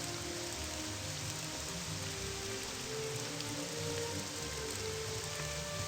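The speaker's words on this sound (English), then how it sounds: "They come at me and the rain isn't stopping now." Steady, dense rain in the video game Morrowind, a continuous even hiss with low drifting game-music tones beneath, close and unbroken throughout.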